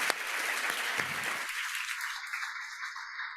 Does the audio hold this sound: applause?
yes